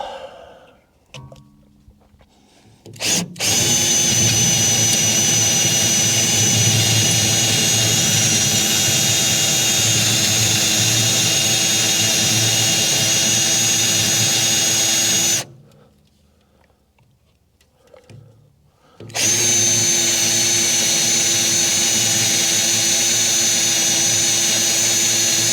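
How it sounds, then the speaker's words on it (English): A power drill bores 3/4 inch holes for cam locks in a truck belly box, whining loudly and steadily in two long runs separated by a short quiet pause. "Got our holes for the cam locks drilled."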